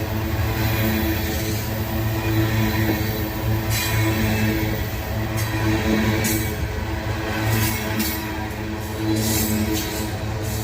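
A loaded coal train rolls past, a steady low diesel drone with a humming engine tone and rumbling cars, with occasional brighter rattles and clanks over the constant roar.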